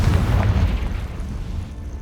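A Confringo fire spell explodes in the Hogwarts Legacy video game with a loud, deep booming blast that rumbles and fades over about two seconds.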